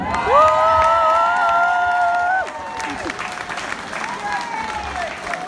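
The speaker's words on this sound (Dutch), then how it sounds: "Mag ik nog een daverend applaus voor Full Option?" A crowd in Hasselt applauds and cheers for the Full Option allround music band, loud clapping with whoops and high shouted voices, easing slightly partway through but continuing to the end.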